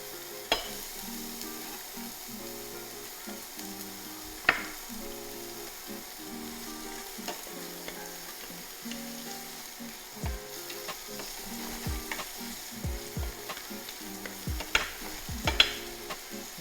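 Onion sizzles steadily as it fries in a pan for a Chinese cabbage curry, with intermittent scrapes and clicks of stirring, fairly quiet and close, no talking.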